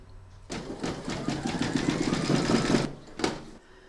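An embroidery sewing machine stitches a large double-sided Santa applique, giving a fast, steady run of close mechanical needle taps for about two seconds, then a short final burst.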